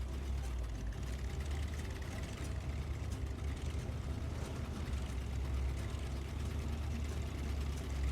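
A truck engine in Snowrunner runs steadily with a deep, low rumble, holding an even drone throughout without pauses or talk.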